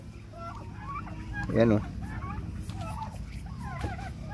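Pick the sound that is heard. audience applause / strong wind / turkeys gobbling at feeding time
turkeys gobbling at feeding time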